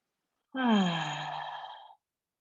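One big, deep yoga breath, a smooth, close exhale lasting over a second that starts strong and tapers off, alone in a quiet room.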